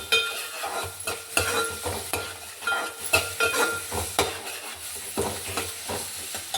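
Onion pieces frying in a pan for a fish curry, a steady close sizzle broken by repeated scraping stirs with a utensil.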